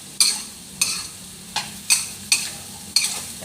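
Eggplant with minced pork and oyster sauce stir-fried in a pan, six sharp scraping stir strokes at a steady pace over a soft continuous sizzle, close and clear with no talking.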